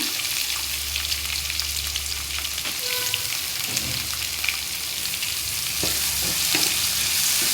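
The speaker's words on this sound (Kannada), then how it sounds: "ಇದನ್ನ ಸ್ವಲ್ಪ ಹೊತ್ತು ಫ್ರೈ ಮಾಡಬೇಕು" Chopped onions fry in oil in a pan for aloo chicken curry, giving a loud, steady sizzle that runs throughout, with a few soft stirring scrapes rising out of the hiss.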